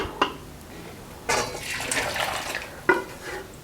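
Cooked, tender beef for achar gosht being tipped from a pot into a kadai: a few wet clatters and splashes of meat and liquid at the start, middle and near the end, with soft sloshing in between and no talking.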